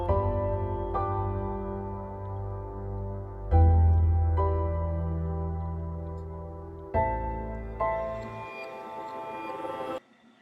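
Royalty-free music from the Filmstro app with its depth control raised, a sustained layered instrumental bed with low swells that shift in sections and stop abruptly near the end.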